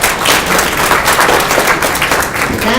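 A live audience applauds in dense, steady clapping that fills the space loudly and evenly throughout, with no pauses or voices standing out.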